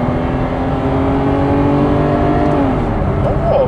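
Mercedes 190 2.6 Evo restomod with an automatic gearbox drops a gear and revs, a loud, steady engine drone from inside the car that climbs in pitch toward the end.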